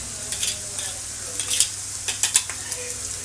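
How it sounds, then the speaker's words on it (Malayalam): Precooked clams sizzle in a hot frying pan for a kakka roast, with a constant hiss broken by sharp intermittent crackles and pops, plus a few soft scrapes of stirring nearby. "നമുക്കിങ്ങനെ പൊട്ടണ സൗണ്ട് കേൾക്കാം. കക്ക പൊട്ടണ സൗണ്ടാണ്"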